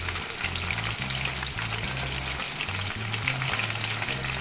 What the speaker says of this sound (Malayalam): നമ്മുടെ കബാബ് ഇപ്പോൾ ലോ ഫ്ലെയിമിൽ ഒരു 10 മിനിറ്റോളം വേവിച്ചിട്ടുണ്ട് കേട്ടോ.